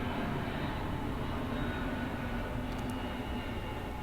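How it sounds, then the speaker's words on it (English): A steady, broad roar of an airplane passing overhead fills the scene, constant and moderately loud with no distinct peaks and no talking. "that's an airplane flying overhead right now"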